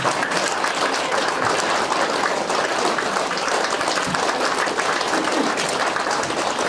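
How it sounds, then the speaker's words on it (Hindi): Loud, continuous applause from a large audience at a DXN company program in Khandbari, an even, rain-like rush of many hands clapping throughout with little variation. "जोरदार तालीले सम्मान गर्न चाहन्छु"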